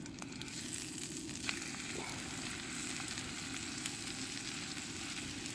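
Food frying in garlic butter in a pan on a camping stove outdoors, a steady close sizzle running throughout with faint stirring scrapes.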